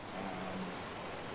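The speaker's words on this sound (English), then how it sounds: "Oh, it just started raining." Steady rain falling in ARK: Survival Evolved, a soft, even hiss of downpour throughout with a faint low tone briefly underneath, no voices.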